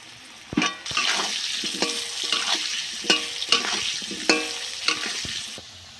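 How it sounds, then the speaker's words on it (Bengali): Potato pieces with salt and turmeric fry in a pan and are stirred. A steady sizzle runs under repeated scraping strokes about every half second to second, heard close with no voices. "আলুতে দিয়ে দেবো লবণ, হালকা করে হলুদ গুঁড়ো,"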